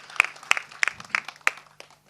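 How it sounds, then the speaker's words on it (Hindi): Scattered clapping from a small crowd at a Bollywood film trailer launch event for actress Kriti Kharbanda, a handful of distinct claps spaced out and tapering off, fairly light and close. "कृति के लिए जोरदार तालियां हो जाए"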